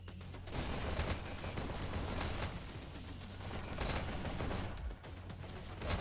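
Rapid gunfire fills a bronze-final video game match where players shoot a ball around, dense and continuous bursts with clanking mechanical noise throughout.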